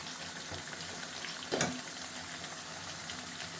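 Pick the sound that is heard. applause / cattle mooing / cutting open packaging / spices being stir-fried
spices being stir-fried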